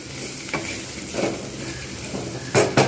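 Bitter gourd and potato frying on a low flame in a pan, a soft steady sizzle broken by a few scraping stirs of a spatula, the last two louder and close.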